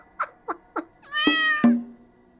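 Three short chirpy cartoon-style meows in quick succession, then two longer, louder stretched meows with a bright, synthetic tone.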